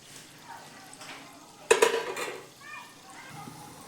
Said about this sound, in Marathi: आपण तळून घेऊयात